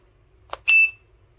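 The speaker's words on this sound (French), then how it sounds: "du coup déclenche l'alarme" An Ohradio wireless rear camera kit sounds its alarm: a brief click followed by a single clear, high electronic beep held for a moment, close and alone.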